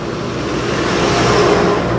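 A car's engine runs steadily close by as it backs up, with a low continuous hum and slight swell in revs, no voices present.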